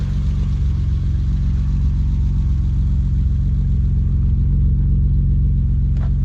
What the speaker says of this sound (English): The car's all running.